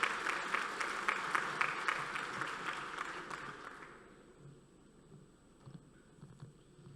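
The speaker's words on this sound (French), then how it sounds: "sous vos applaudissements" Audience applause at the opening session of a conference as a finance director is welcomed to the podium, a broad clatter of many hands that holds for about four seconds, then fades into quiet room noise.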